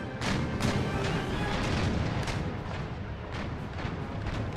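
Warship cannons firing in Empire Total War naval combat, a dense, continuous barrage of booming shots and rumbling blasts, loud and close, with no speech.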